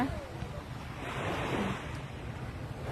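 Sea surf at a beach where people are swimming and playing in the water rolls in a steady, rushing roar, with blustery wind buffeting the microphone and a wave swelling louder midway.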